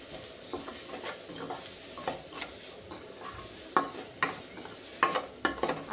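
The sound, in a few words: stirring turmeric, salt and chili into frying food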